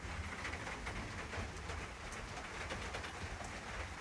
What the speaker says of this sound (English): And the rain is coming down harder.